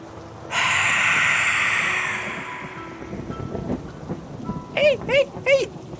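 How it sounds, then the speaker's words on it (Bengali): Cartoon thunder and rain for a Bengali ghost story set at a cremation ground: a loud crashing rumble over heavy rain hiss bursts in after half a second, fades over several seconds, then a few short chirpy squeaks follow. "চারিদিক এক মুহূর্তের জন্য আলোকিত হয়ে আবার মিলিয়ে যাচ্ছে সাথে মেঘের গর্জনের প্রবল শব্দ"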